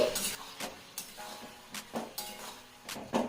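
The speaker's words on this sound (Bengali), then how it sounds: "এবারে সব কিছু নেড়ে চেড়ে মিশিয়ে নিচ্ছি" A utensil scrapes and clinks against a pan while tomatoes are stirred and mixed with salt and turmeric, giving roughly a dozen spaced taps and scrapes in an uneven rhythm, close and fairly clear, with no talking.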